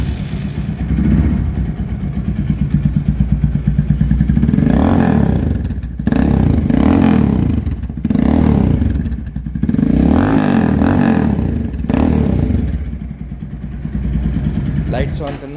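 A motorcycle engine on its stock exhaust runs close by with a steady, throbbing thump, swelling with several revs and settling back to idle.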